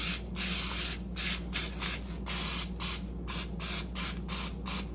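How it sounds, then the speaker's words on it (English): Cooking spray hisses onto parchment paper for a vegan strawberry cheesecake in a series of about nine short, close bursts, with brief pauses between them over a steady low hum. "what I'm gonna do is spray that with some cooking spray"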